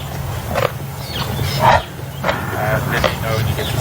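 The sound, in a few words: lions growling over a buffalo kill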